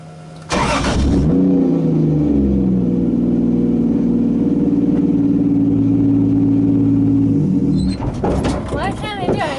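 A 2JZ-engined Nissan 240SX drift car starts up and idles, its engine droning and revving steadily close by for several seconds before dropping off, with talking in the car.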